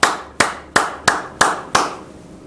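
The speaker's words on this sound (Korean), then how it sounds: "감사의 박수를 드리겠습니다." A church congregation at a New Year's worship service claps together in six sharp, evenly spaced unison beats, loud and close, with a brief decay after each clap.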